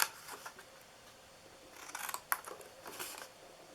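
Scissors snip through paper to trim corners, a few crisp, faint cuts spaced irregularly in a quiet room.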